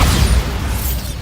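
A Bombarda spell in a Harry Potter video game bursts with a loud, low boom at the start that rolls and fades over about a second, with no talking.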